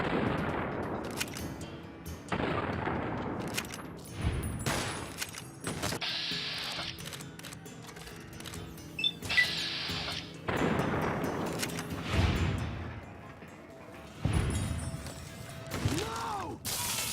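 Gunfire in the video game Fallout: New Vegas, several sharp shots and mechanical reload clicks scattered over a continuous game ambience, moderately loud.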